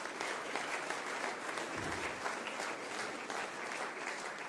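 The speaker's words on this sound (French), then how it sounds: "vous pouvez l'applaudir" A live audience breaks into sustained applause at a public discussion event with African diaspora communities, dense steady clapping filling the room at moderate level for several seconds with no speech over it.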